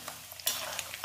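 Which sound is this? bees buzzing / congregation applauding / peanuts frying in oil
peanuts frying in oil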